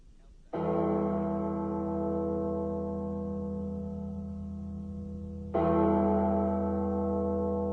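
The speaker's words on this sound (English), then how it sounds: "this is ACDC with Hell's Bells." Two heavy tolls of a deep bell open AC/DC's Hell's Bells on the radio. Each strike rings out loud and sustained, with the second toll arriving about five seconds after the first.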